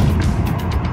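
A car driving, heard from inside as a steady, loud, low engine and road rumble that holds even throughout without voices.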